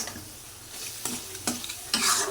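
Dried fish frying with garlic and dried chili gives a steady close sizzle with a few sharp spatula scrapes against the pan, the last near the end being the loudest, and no one talks.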